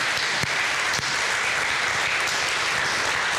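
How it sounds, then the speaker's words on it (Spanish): A church congregation applauds to honor Christ for a new church, producing a dense, loud, sustained round of clapping from many hands with no talking. "¿Cuánto le dan palmas a Cristo por ello?"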